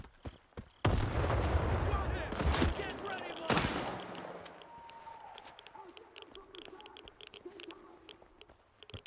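Loud blasts and gunfire in a survival shooter game, a heavy burst of overlapping booms and shots early on, then a second sharp blast, fading into scattered quieter noise and faint ticks as a voice speaks.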